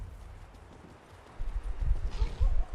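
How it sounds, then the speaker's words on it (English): Hooves clip-clop from a horse in the Elder Scrolls Online video game, quiet at first, then a closer, louder series of uneven thumps during the second half. "Seem to have the same horses around here."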